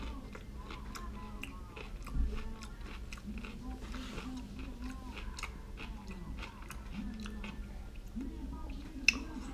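Someone bites into and chews a crunchy red strawberry-flavored pickle, giving soft repeated crunching and chewing sounds at close range, fairly quiet, with no talking.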